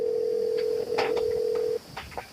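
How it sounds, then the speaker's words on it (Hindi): A telephone being dialed: a steady tone on the line breaks briefly for a soft click, resumes, then stops, followed by a few quick faint button beeps and clicks up close. "हम परतपो फोन कर दी जाई"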